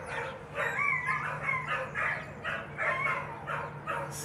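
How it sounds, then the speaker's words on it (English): Several dogs bark outdoors on a Southern California morning, a repeated run of fairly distant barks in a steady rhythm over a low background hum. "The dogs are barking."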